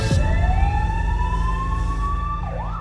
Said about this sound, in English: That ambulance you can hear is our intensive care paramedic